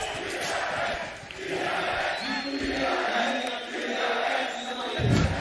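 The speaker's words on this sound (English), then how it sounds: "You can hear the crowd" A large crowd roars and cheers in a big esports arena during a Valorant Champions 2022 playoff match, the noise swelling and dipping in waves before rising again near the end.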